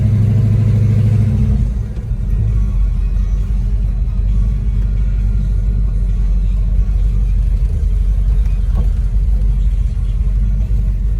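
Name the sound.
1969 Plymouth Roadrunner car engine driving and parking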